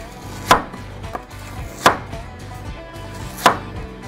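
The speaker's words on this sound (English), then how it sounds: "Now we're just gonna cut this nice and thin." A knife cuts onion thinly on a wooden board, with three sharp, evenly spaced chops standing out over a steady low background, near and fairly loud.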